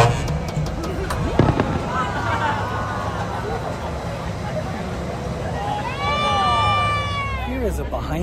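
Fireworks bang and crackle at a distance, with whistling rockets rising near the end, over a steady murmur of crowd chatter.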